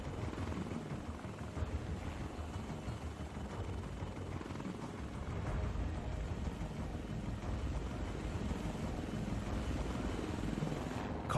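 Indian Army casualty-evacuation helicopter in flight, a continuous loud rotor and engine roar with wind noise, steady throughout with no voices.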